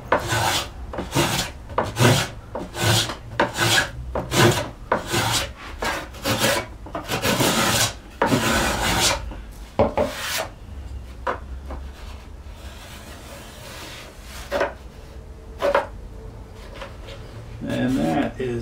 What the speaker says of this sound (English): I'll show you what a spoke shave can do for the same place.